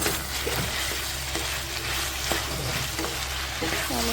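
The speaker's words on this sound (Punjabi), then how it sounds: "ਇੱਧਰ ਆਲੂ ਆਪਣੇ ਹੋ ਗਿਆ ਵਿੱਚ ਆਪਾਂ ਪਾਵਾਂਗੇ ਸ਼ਿਮਲਾ ਮਿਰਚ ਇਹਨੂੰ ਕਰਾਂਗੇ ਮਿਕਸ" Diced potatoes and capsicum sizzle steadily in a hot pan while being stirred, with a continuous close frying hiss and occasional scraping stirs, no talking.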